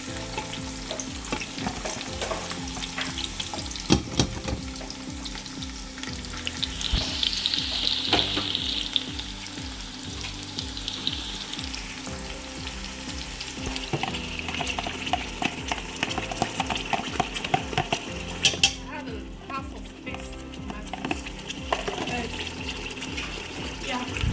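Onions and vegetables frying in a pan, a loud, continuous sizzle with stirring clatter and occasional watery bursts, a voice talking intermittently over the cooking noise.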